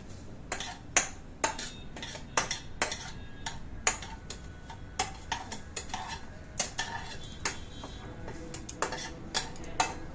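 A spoon repeatedly clinks and scrapes against a metal pot while mixing food, sharp close taps in an irregular rhythm over a quiet background, with no talk.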